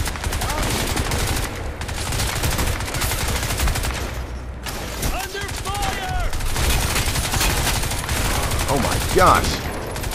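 Rapid, dense pistol and weapon fire in the Xbox One shooter Crysis 2, sustained volleys with a brief lull, and a man exclaiming over the shooting.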